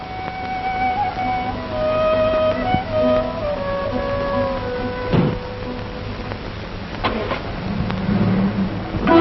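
A car pulls away from a residence, its engine rumbling at mid distance and shifting pitch as it moves off, with a couple of sharp knocks partway through.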